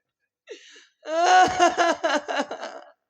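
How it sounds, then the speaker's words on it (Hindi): A woman cries on stage in a Hindi comedy staging of the Ramayana scene where Manthara stirs up Kaikeyi: a brief whimper, then a longer run of wavering, sobbing wails in close, loud bursts. "ये क्या, आज मेरे महलों में किसी स्त्री की रोने की आवाज"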